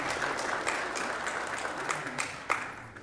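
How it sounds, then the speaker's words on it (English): A congregation at a memorial service applauds, a sustained wash of many hands clapping indoors, fairly close and even throughout. "Sometimes people don't know if it's appropriate to applaud in a memorial service"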